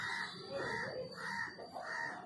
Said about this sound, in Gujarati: કુકડાનો અવાજ કેવો આવે છે કુકડા બોલે છે